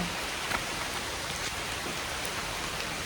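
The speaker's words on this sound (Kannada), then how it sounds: "ಮಳೆ ಬರ್ತಾ ಇದೆ." Heavy rain pours down outside a home, a dense, even hiss of drops that stays constant and loud from start to finish with no voices.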